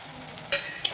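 Brief scraping stir of tomato with chili, coriander, cumin and salt in a pan for chicken chowmein, two quick spoon clinks over a soft low sizzle.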